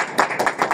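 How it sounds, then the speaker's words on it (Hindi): A church congregation claps for a brother, a brief burst of rapid, fairly loud applause from many hands together. "ताली बजाए भाई के लिए"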